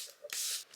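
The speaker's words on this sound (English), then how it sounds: "I'm gonna set my face with the Charlotte Tilbury Airbrush Flawless Setting Spray" A quick hiss of Charlotte Tilbury Airbrush Flawless Setting Spray misted onto a face, one short burst of about a third of a second, close and fairly quiet, with faint handling sounds around it.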